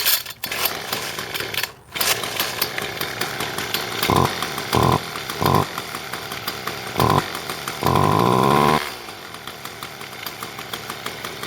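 John Deere S1400 string trimmer engine idling steadily after starting with the choke off, with several short throttle blips and a longer rev rising over a dense two-stroke buzz, then settling back.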